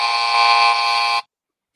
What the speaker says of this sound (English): The buzzer was so loud.